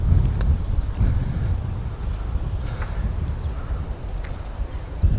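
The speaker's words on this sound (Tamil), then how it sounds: "காற்றும் நல்லா அடிக்குது" Strong wind buffets the microphone on an island shoreline in Abu Dhabi, a steady loud broadband rush with gusty swells throughout, no voices.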